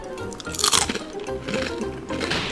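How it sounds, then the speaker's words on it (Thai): A crunchy Japanese wasabi snack is bitten and chewed up close, with a few loud crisp crunches followed by quieter grinding chews. "ไอ้นี่กรอบ กรอบหนักมากด้วย"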